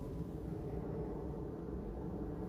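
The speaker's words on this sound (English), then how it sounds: "So there are planes, you can hear them. There's planes right over there, right above me." Airplanes fly overhead near Newark Airport, producing a broad, continuous low roar of jet engine noise that stays steady and fairly loud for the whole stretch, with no speech.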